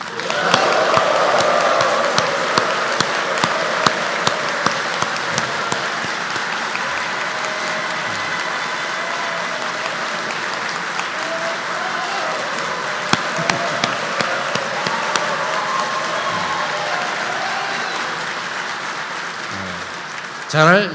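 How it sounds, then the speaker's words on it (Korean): Loud, sustained applause and cheering from a crowd at a New Year work-opening ceremony fills the space, fading slightly toward the end as a few louder claps stand out. "크게 박수와 환호 부탁합니다."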